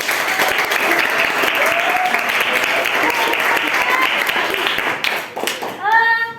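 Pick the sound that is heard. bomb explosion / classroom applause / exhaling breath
classroom applause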